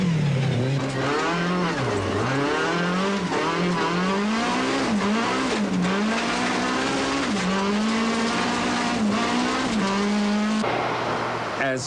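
Rally car at full attack on a special stage of the Tour Natal 2002, heard from inside the cockpit: loud, continuous engine howl rising and falling through gear changes, with tyre noise and gravel under it.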